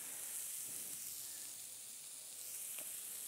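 An okonomiyaki topped with katsuobushi sizzles in a hot pan, a steady, close, bright hiss running the full length with no talk over it.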